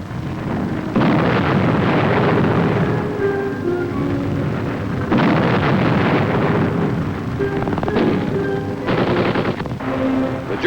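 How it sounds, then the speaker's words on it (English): A German anti-tank charge explodes in war footage, heard as a series of loud, sharp blasts and crackling bursts that come in separate waves, with rough, wind-buffeted noise between them. "the German is hit by the explosion of his own charge"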